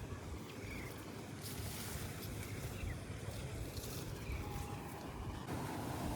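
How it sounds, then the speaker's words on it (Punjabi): An electric irrigation water pump motor runs beside a wheat field, with water pouring into a channel. It makes a steady, dense rushing roar that carries on unchanged throughout, with some wind buffeting on the microphone. "ਆ ਮੋਟਰ ਚੱਲੀ ਜਾਂਦੀ ਇੱਥੇ"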